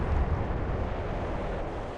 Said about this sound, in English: Magazine explosion.